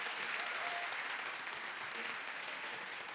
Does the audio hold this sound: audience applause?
yes